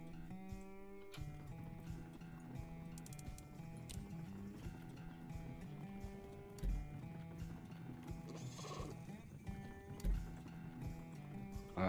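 Horses in the video game Depraved clop their hooves at a steady pace and neigh now and then among mechanical game sounds. No one speaks over them.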